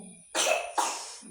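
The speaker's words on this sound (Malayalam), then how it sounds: "ചുമയ്ക്കുന്നുണ്ട്" Two coughs, close and moderately loud, follow one another quickly in a quiet home, each a short harsh burst that trails off.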